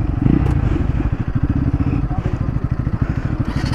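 Motorcycles, a Pulsar and a Yamaha R15M among Pulsar NS200 and F250 bikes, run a drag race, their engines giving a loud, steady, close throbbing drone with a rapid pulsing exhaust beat throughout.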